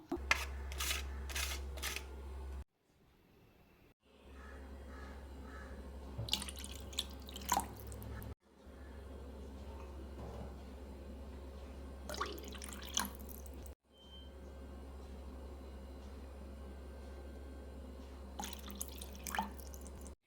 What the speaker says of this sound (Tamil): இதுக்கு தண்ணி ஊற்றியாச்சு